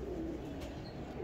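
Low, soft cooing of Habshi breed pigeons at a breeder's loft, a faint murmuring under steady background noise.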